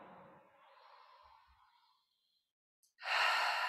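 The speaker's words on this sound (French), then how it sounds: "On va prendre ensemble trois grandes inspirations" A long, slow exhale through the mouth drifts off into silence during a guided meditation, followed by a sharp, loud breath drawn in, close and intimate.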